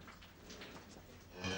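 Dairy cattle from a branded herd on a farm moo faintly in the distance, with a louder, closer call rising near the end over steady outdoor background noise.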